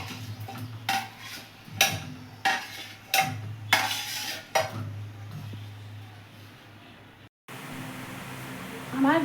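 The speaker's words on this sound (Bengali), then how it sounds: "এবার আমি শিরার মধ্যে দিয়ে দিচ্ছি।" Gulab jamun are lifted and dropped into sugar syrup with metal utensils, giving a series of sharp clinks and scrapes against a pan over faint background hiss, then a quieter stretch.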